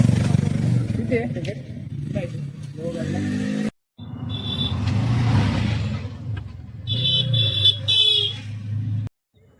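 Auto rickshaw ride on the way toward Lohagad fort, its small engine droning and revving steadily up close, broken by a brief drop-out, with faint voices around.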